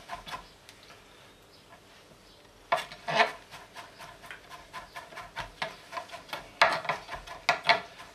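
Cauliflower being finely chopped with a knife on a cutting board, fast rhythmic tapping and scraping strokes, close and clear, quieter at first then denser and louder, with no talking.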